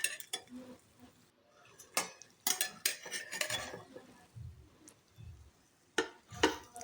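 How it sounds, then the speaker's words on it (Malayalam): A spoon scrapes and clinks against a well-seasoned kadai while rice cake batter is stirred, giving a series of irregular metallic knocks and scraping strokes at close range with no talking. "ഇനി നമുക്കിത് ഇളക്കിയെടുക്കാം."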